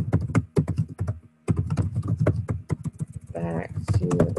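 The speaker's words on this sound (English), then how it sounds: "Type in my resolution." Clattering keystrokes from a computer keyboard as a task resolution is typed into a work-order program, a brisk, uneven run of close taps with short pauses and a dense burst near the end.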